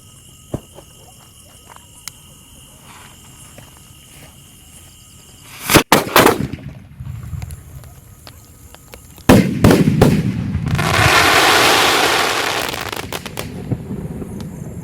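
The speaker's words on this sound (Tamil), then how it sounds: "இப்போ இந்த டிஸ்ப்ளே ஃபங்க்ஷன்ல நம்ம பார்த்த மாதிரி 4 ஸ்கை ஷாட்ஸ் தான் வெடிச்சிருக்கு." Sonny Fireworks Speed 5 mega sky shots fire outdoors, giving a few sharp loud bangs followed by a longer crackling, hissing burst, with quiet gaps of background insects between them.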